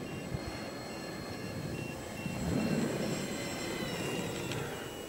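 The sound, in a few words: RC model jet (Horten 9) with electric ducted fans flying to land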